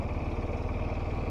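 A Kawasaki motorcycle rolls slowly through tight corners and U-turns, its engine giving a steady, low, close-up rumble at modest revs with a constant mechanical clatter and no speech.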